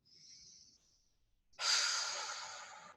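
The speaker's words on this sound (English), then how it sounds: "So just breathing into the belly, exhaling down to the ground with an audible exhale." A person breathes into the belly and lets out an audible exhale toward the ground, a soft airy intake followed by a louder, longer breathy sigh, close and alone.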